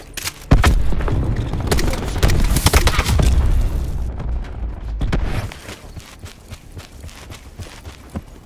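Cluster grenade explosions in a fast online shooter game match, a string of loud booming blasts crowding the first half, then quieter scattered thuds and game effects trailing off.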